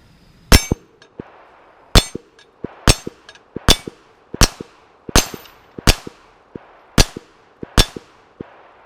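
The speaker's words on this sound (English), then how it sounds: "let's shoot this last mag here and see how many we can get on target at 18 yards with this 380" Pistol shots from a SCCY CPX-3 .380 ring off a steel flapper target at 18 yards, about ten loud sharp cracks in a steady paced string, each followed by a bright metallic clang, with no talking.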